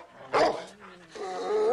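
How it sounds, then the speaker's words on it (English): Hound dogs on a western ranch at night give a couple of close, loud barking, baying cries, the first short and sharp, the second drawn out and tonal like a rising howl, with no talk over them. "You keep that howling up all night."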